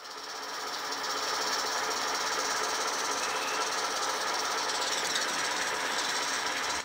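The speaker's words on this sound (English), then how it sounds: "started a treat, so we'll stop talking and just let you listen and watch the locomotive." Roundhouse Engineering Taliesin live steam locomotive running on a rolling road in a back garden, giving a dense, continuous hissing and rapid mechanical clatter that stays steady and fairly close throughout.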